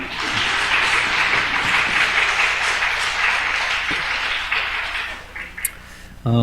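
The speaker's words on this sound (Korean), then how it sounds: "박수 한번 쳐줍시다" A church congregation applauds during a Sunday morning worship service, a dense, steady clapping that holds for several seconds before thinning and fading out near the end, with faint voices underneath.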